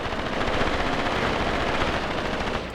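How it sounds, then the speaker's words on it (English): Machine gun fire in the Graviteam Tactics Mius Front war game, a steady sustained rattle of automatic shots filling the whole stretch at close range, easing slightly at the end. "There's a machine gunner causing trouble."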